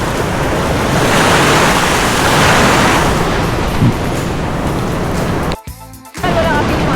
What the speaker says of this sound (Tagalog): Grabe yung alon guys.